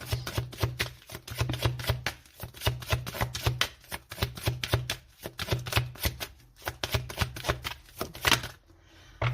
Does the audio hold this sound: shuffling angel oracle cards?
yes